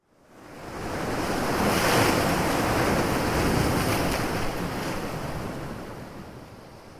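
Ocean waves wash onto a beach in one long, loud surge that swells over about two seconds and slowly recedes, with wind gusting across the microphone and no voices.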